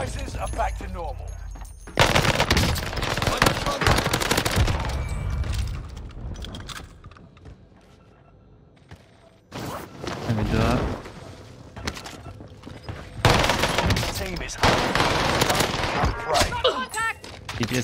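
Bursts of rapid PPSh submachine gun fire in Call of Duty on Rebirth Island, loud and close, in two long volleys separated by a quieter stretch, with game effects and a voice talking between the shots.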